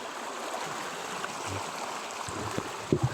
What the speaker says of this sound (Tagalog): Bigla lumakas yung tubig